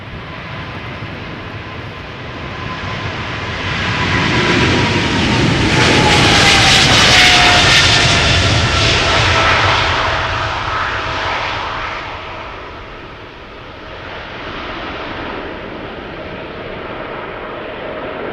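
A KLM jet airliner, registration PH-BVB, 16 years old, first flown March 2008, departs Schiphol's Polderbaan as flight 713 to Paramaribo; a loud, continuous engine roar swells to a peak midway, then slowly fades.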